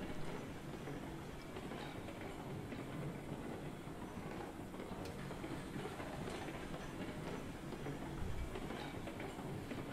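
A locomotive from the railroad game Railroad Online rolls in toward a dock, its steady rumble and faint rail clatter continuing evenly throughout.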